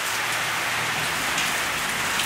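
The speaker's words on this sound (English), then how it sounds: "it started pouring. And not just pouring, but pouring" Heavy rain pours down steadily with hail mixed in, a dense, loud, continuous wash of noise with no voices.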